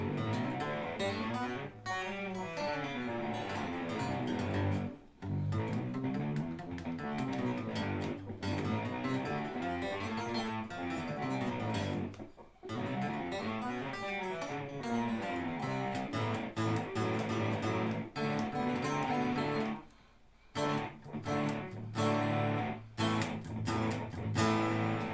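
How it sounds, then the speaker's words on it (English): A Fender Telecaster played through a cheap harmonizer pedal set fully wet one octave down, giving thick, doubled strummed chords and melodic runs; dense and continuous, with brief pauses between phrases. "I'm just going to play a little bit on the guitar so you can hear"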